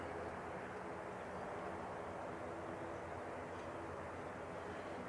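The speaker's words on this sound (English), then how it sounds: "So we've had a Jetstar flight go to Auckland, 2:36, and now we're getting the Air New Zealand as well." An Air New Zealand airliner departs toward Auckland from the Canterbury Aero Club runway 29 area, heard as a steady, distant broadband jet roar that holds constant throughout.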